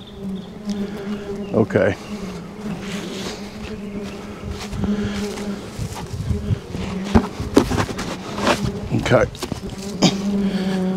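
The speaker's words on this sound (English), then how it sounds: "there's still bees following me, if you can hear it on the camera" Honey bees buzz steadily and close during a transfer from a nuc to a hive, with individual insects zipping past the microphone while someone speaks a few brief words.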